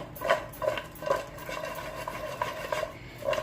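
Vegetable pieces coated with ghee are tossed in a bowl, giving soft rhythmic rubbing and light clinks of a utensil against the bowl, moderately quiet, with no talking.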